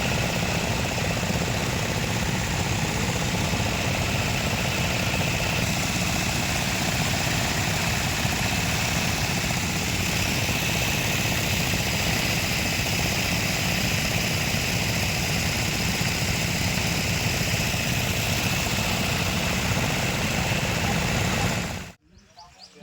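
Machines run in a repair workshop where rice threshers are serviced, a loud, steady engine drone with a constant hum that keeps on without a break and then stops abruptly at the end.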